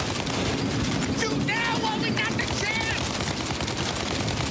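Gunfire in Mafia Definitive Edition: a dense, continuous barrage of loud shots rattles without pause, with faint whistling tones layered through the din.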